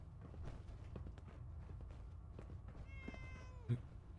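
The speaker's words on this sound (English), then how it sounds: "Can I pet the cat?" Cat meowing in the video game Fallout 4, a single drawn-out meow near the end over quiet footsteps and low ambient background.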